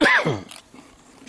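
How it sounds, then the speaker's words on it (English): A single sharp, harsh cough from a man outdoors on a hot, muggy day, loud and close, followed by brief quiet. "Sorry about the cough."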